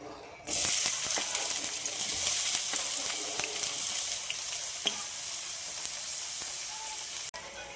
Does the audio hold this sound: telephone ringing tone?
no